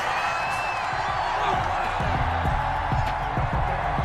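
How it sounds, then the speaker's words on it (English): A Madden NFL stadium crowd roars steadily in disapproval after a roughing-the-passer penalty, a dense continuous wash of voices with faint whistles and whoops, under light commentary. "Well, this crowd does not like that call."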